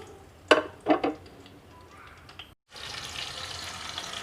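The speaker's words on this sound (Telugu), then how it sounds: "ఇప్పుడు మనం పచ్చిమిరపకాయలని ఇలా ఫ్రై చేసేసుకుని" Green chillies drop into hot oil with a couple of sharp splashes, then a steady, even sizzle of frying fills the pan, close and continuous.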